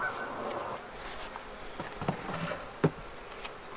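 Bees buzzing around beehives, a soft continuous hum with small knocks and taps nearby, faint and steady without speech.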